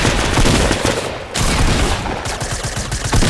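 Fortnite machine gun fire rattles in a dense, loud, continuous burst with a short break, close and harsh throughout, with no talk.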